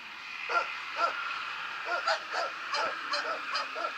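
Sled dogs used for pulling sleds in snowy Lofoten, Norway, bark in a series of short, evenly spaced yips over a steady outdoor hum, moderately close and fairly loud.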